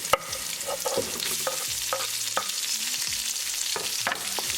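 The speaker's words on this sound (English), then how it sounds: "We're going to cook onion along with ginger, garlic and green chilies for like 2 minutes." Onion, ginger, garlic and green chilies stir-frying in a pan for a vegan vegetable stir-fry, a steady loud sizzle broken by sharp scraping strokes of a spatula, with no talking.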